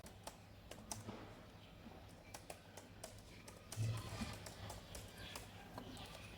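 Keys tapped on a computer keyboard while entering fastboot commands to flash a custom ROM onto an Oppo A16 phone; an irregular run of quiet, close clicks over a steady low background hum, with no voice.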